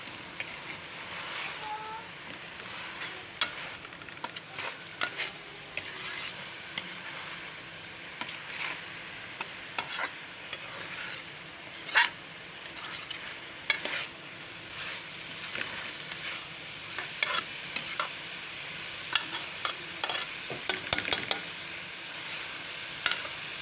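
Dhaba-style bhindi fry with chicken masala is stirred in a pan, producing quiet, irregular spatula scrapes and clinks over a soft, constant sizzle that continues for a long stretch.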